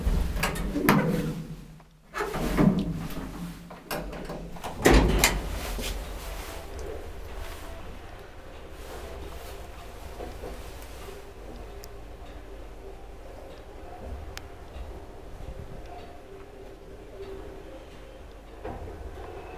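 An old Kone traction elevator with yellow doors, running roughly: loud clunks and door rattles at the start, then a steady low rumble and hum of the car travelling, with faint ticking.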